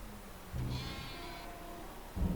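Sheep bleating in the Farming Simulator 22 video game, a short call near the start followed by a low rumble of vehicle or ambient game noise, with no talking.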